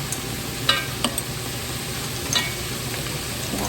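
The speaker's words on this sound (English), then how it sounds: "I'm going to work this in together with my vegetables for about a minute or so" Garlic and thyme are stirred into sautéing vegetables for chicken noodle soup, a loud steady sizzle close by with a few sharp scrapes of the spoon in the pan.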